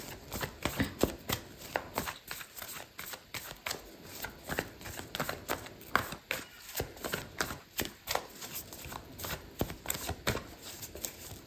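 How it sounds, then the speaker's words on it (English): Tarot and oracle cards being shuffled by hand, a steady run of soft, rapid riffling flutters and taps, close and fairly quiet, without talk. "I'm gonna pull out an oracle card"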